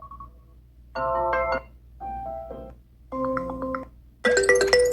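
An iPhone 15 Pro Max ringtone plays a futuristic, low-key melody of four short bright chiming phrases separated by brief pauses, clear and close with nothing else heard.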